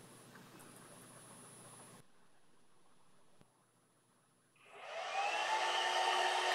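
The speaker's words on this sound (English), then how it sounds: "You hear the fan kicking in there." The cooling fan of an ISDT FD 200 LiPo battery discharger spins up under load, a steady airy whir that rises to a louder, fuller rush after a quieter stretch, close and without speech.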